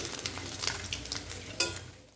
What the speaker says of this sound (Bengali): দেখো এটা কিন্তু আমার এখানে ভালোভাবে ভাজাও হয়ে গেছে।